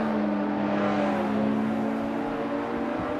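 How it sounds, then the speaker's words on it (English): Turbocharged BMW race car engines in a sim racing game at the Nordschleife circuit make a continuous, loud drone whose pitch slides slightly as the revs shift. "we've enjoyed the sounds of the BMWs"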